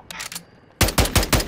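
A light machine gun fires in Call of Duty: Modern Warfare II. A few faint shots come first, then four or five loud, close, evenly spaced shots in quick succession, with no voices.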